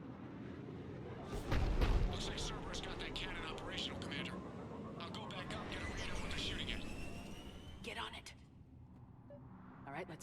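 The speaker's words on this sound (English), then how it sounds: "Looks like Cerberus got that cannon operational, Commander." A heavy cannon fires in a Mass Effect sci-fi battle, a loud low boom followed by sustained rumbling combat noise and whooshing effects, with a voice speaking over the din.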